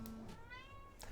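A cat meows in a video game, a short close cry heard alone over a low steady background.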